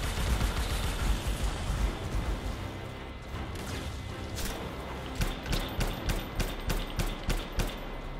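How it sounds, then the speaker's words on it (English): Missile launches and blasts in the video game Anthem, a dense roar of gunfire-like bursts with a rapid string of sharp, evenly spaced explosive cracks toward the end. "Missiles!"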